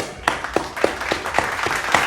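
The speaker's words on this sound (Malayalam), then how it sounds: "നല്ലൊരു കൈയടി കൊടുക്കാം" A short burst of rhythmic hand clapping, about eight sharp claps spaced evenly and heard fairly close, with a light hum in the background.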